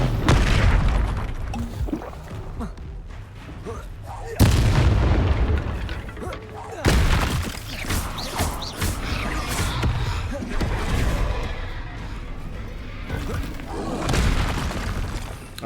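Spell explosions erupt in Hogwarts Legacy combat, with heavy booms and bursts landing repeatedly over a dense, continuous layer of loud game battle noise for the whole stretch.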